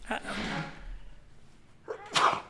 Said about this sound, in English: We'll get the sneeze in because it's a real podcast.